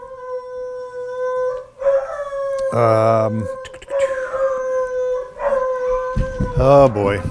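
Excited dogs break into long, wavering howls, several rising and falling cries that swell loudly and overlap, with a man's brief spoken remark in between.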